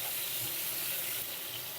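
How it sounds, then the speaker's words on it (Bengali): Pointed gourd frying in hot oil, giving a continuous, even sizzle and hiss heard up close with no other sounds or voices. "এই তেলের মধ্যে পটলগুলো আমি ভেজে নেব"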